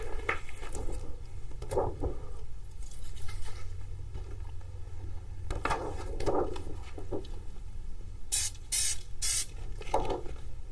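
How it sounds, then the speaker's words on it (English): Spray glue from an aerosol can at a body painting workshop, several short hissing bursts spread across a quiet room, with a loud cluster of three close sprays near the end. "hope we're done with the spray glue"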